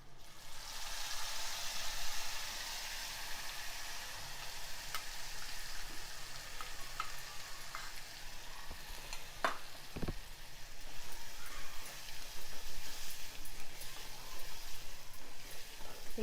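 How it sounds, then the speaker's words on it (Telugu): A ground paste of tender tamarind leaves, sesame powder, coriander seeds, cumin and green chillies is stirred into a sizzling tempering in a pan, giving a soft steady fry with scattered scraping and clicking from the spoon. "ఇలా ఒకసారి చక్కగా కలుపుకోవాలంతా"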